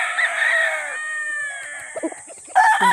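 A large Sweeter bloodline rooster weighing about 2–3 kg crows once on a farm, a long clear call heard close by. A brief different sound follows at the end.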